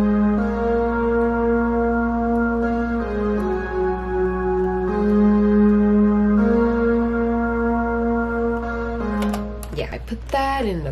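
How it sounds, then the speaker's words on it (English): A sustained Compact Pad synth patch from Halion Sonic, used for a cover, holds steady layered chords that shift every few seconds, loud and alone, with a brief clattering burst near the end. "this was called Compact Pad from Halion Sonic, and it sounds like this"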